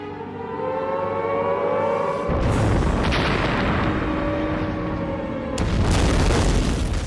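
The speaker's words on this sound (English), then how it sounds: "We've blown it up with real bombs, just like the ones dropped by the Luftwaffe." Real bombs detonate in a purpose-built brick-and-mortar street, a deep booming blast roaring and rumbling through the air, followed by a second explosion near the end, with a low siren-like drone beforehand.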